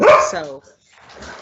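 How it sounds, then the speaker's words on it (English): A pet dog barks loudly indoors, one short close bark at the start, followed by quiet, while a person speaks. "That's my dog."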